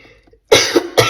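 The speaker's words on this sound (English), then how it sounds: "I also have this terrible cough." A woman gives a harsh, heavy cough: two close bursts followed by a third after a brief pause, loud and near, with quiet room tone before.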